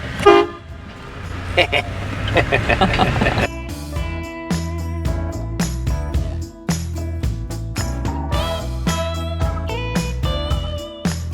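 A car horn toots repeatedly in short and longer blasts, loud and close, with faint voices early on.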